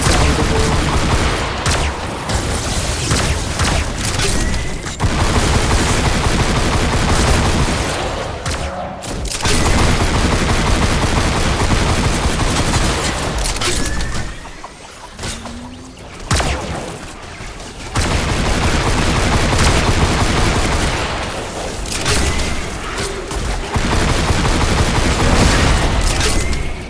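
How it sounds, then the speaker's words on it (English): Shotgun fire in the video game Fortnite, loud blasts bursting in dense clusters across the stretch, with brief lulls in between, heard alone without talk. "Get ready for some loud gun sounds, everyone."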